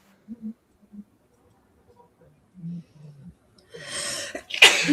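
A sharp, loud sneeze bursts out after a few quiet mumbled sounds, close to the microphone.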